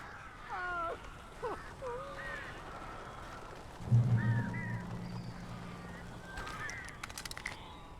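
Crows caw in the Alan Wake video game, with several harsh calls spread through the clip over a low rumble and muted ambient game sound.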